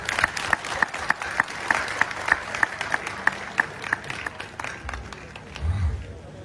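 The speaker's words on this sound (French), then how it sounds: "Pour applaudir le comité de la paix." An audience applauds at a peace committee gathering during a deputy's speech to a community, with steady rhythmic clapping that is fairly loud and near, building and thinning over several seconds while a voice talks faintly underneath.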